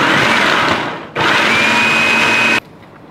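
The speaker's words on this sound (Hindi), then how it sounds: "इस चॉपर में ये प्याज डालें, इसको ग्राइंड करके प्याज को निकाल लेना है" An electric chopper whirs loudly as it grinds onions, running in two bursts with a brief dip in between before cutting off sharply.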